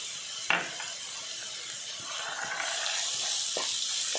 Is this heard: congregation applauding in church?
no